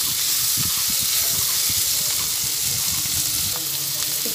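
Snake gourd with poppy seeds fries in a pan and is stirred, giving a steady close sizzle broken by the scrape and clatter of a spatula moving the pieces around.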